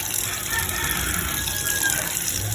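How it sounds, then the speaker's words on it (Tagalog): Cold water poured over bamboo shoots to rinse them, a steady, full gush of running water close by, continuous and fairly loud throughout. "Tapos, tsaka natin patutuluan ng tubig na malamig."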